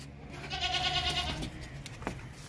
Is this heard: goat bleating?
yes